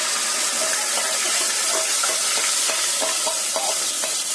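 Tamarind pulp dropped into hot oil with fried tempering seeds, sizzling loudly and steadily, with bubbling crackles and faint stirring throughout.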